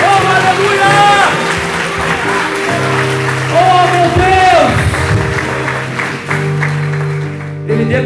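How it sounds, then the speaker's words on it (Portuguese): A church congregation at a worship service breaks into sustained applause for Jesus, broad and continuous, mixed with shouting voices and steady sustained keyboard tones beneath. "dá um forte aplauso para Jesus"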